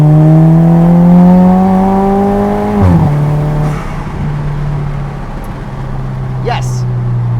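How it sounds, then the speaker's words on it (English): An Alfa Romeo with no sound deadening revs hard on track, engine and exhaust loud and rising before a sharp shift, then settling to a lower drone with turbo whooshes, and someone talks over it. "That is exhaust, engine, valve chatter, transmission, turbo, all real car noises."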